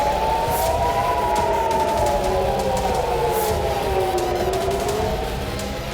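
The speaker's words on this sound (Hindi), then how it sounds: "तेल अवीव में air red alert siren activate हुए" Air raid alert sirens wailing over Tel Aviv, several rising and falling tones overlapping in slow sweeps, loud and sustained against a constant background rumble.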